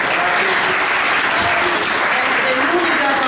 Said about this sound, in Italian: io proporrei di farvi un altro grande applauso e un grosso ringraziamento.